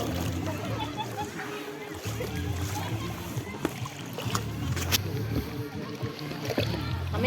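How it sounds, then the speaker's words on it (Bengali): A father and son paddle a small rowboat across open water, with steady sloshing and light splashes from the oars close by, children and adults talking over it throughout. "আর এ হলো নাও চালাচ্ছে, দেখো বাবা ছেলে দুজনে।"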